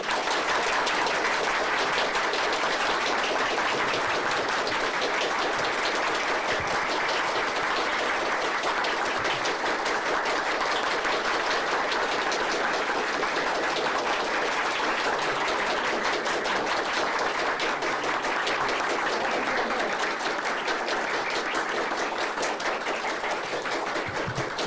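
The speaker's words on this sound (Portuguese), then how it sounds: "essas palmas não são para mim" A Senate audience applauds at length, a dense, continuous roar of many hands clapping that stays loud and even for more than twenty seconds with no speech over it.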